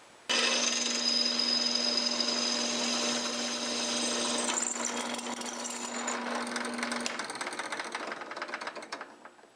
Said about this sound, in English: The drill press makes short work of drilling holes in aluminum